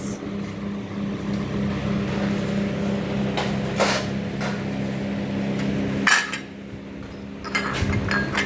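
New steel utensils, glasses and plates clink and knock as they are packed, with scattered metallic taps and clatters over steady room noise.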